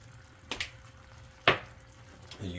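A spoon stirs a seasoned cream sauce of salt, pepper and cayenne simmering in a pan, with a few soft scraping swishes over a quiet low bubbling background.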